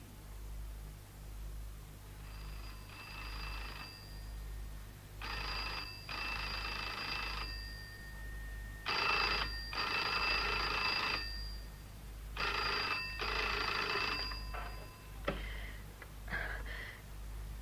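An old telephone bell rings in repeated bursts, each about two seconds long with short gaps between them, over a steady low hum in a radio mystery drama.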